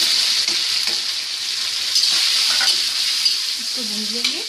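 Besan gatte fry in hot oil in a kadhai, giving a steady, fairly loud close-up sizzle with a few faint knocks and a brief higher tone near the end.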